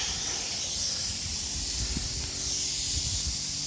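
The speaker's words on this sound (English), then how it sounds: "Still letting air out." Air hisses steadily out of a small, compact oil-free compressor as its tank pressure drops, a loud continuous broadband rush with no pauses.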